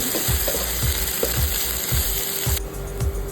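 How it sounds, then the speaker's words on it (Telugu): Ginger paste fries in a pan for mutton curry, a constant sizzle broken by a regular series of scraping stirs that repeat roughly every half second. "అల్లం పేస్ట్ వేసి వీటిని బాగా మిక్స్ చేసి ఫ్రై చేద్దాం ఇవి బాగా పచ్చి వాసన పోయే వరకు"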